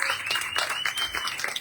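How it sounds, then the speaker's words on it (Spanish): Audience applause closes a science talk on shark ecology given by a biologist, a steady patter of clapping hands holding at an even level for under two seconds with no voices over it. "Un aplauso, señores."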